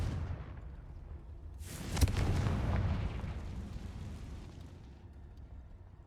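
A Confringo fire-blast spell from the Hogwarts Legacy video game bursts out as one sudden, loud boom at about two seconds, then rumbles and fades slowly over the next few seconds with no talking.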